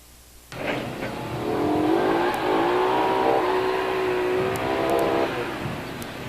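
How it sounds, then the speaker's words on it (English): A drag race car with a big Hemi engine on G70 14 bias ply tires roars off the line at the Norwalk quarter mile, a loud sustained rising engine note with no talk over it. "Once again, Joel Nystrom has difficulty hooking up his G70 14 bias ply tires with that big Hemi engine"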